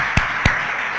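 Two distinct hand claps, close and moderately loud, at a Sunday family church service, heard over a steady hiss of room noise.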